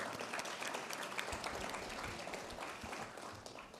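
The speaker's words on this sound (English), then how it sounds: "You all give him a round of applause." An audience at an awards gala celebrating the Bahamian diaspora applauds in a steady, dense wash of clapping that holds throughout, heard from a distance.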